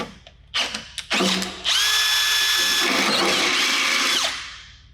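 A few short bursts of whirring, then a power drill grinds loudly into thin sheet metal in a VW Golf 2 G60 engine bay with a high screech for a couple of seconds before winding down.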